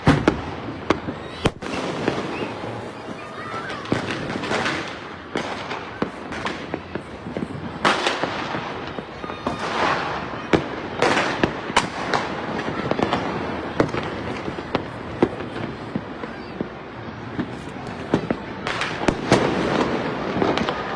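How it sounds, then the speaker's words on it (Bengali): Fireworks and firecrackers bursting over Dhaka on New Year's night, a dense run of sharp loud cracks and booms, some near and some far, going on without a break. "নতুন বছরকে বরণ করে নিতে রাজধানীর বিভিন্ন এলাকায় নিষেধাজ্ঞা অমান্য করে ফোটানো হচ্ছে আতশবাজি, পটকা ও ফানুস"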